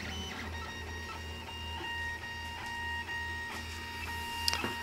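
A 3D printer running steadily with a threaded rod driving its moving part up and down, a continuous close motor whine and hum with faint stepping ticks.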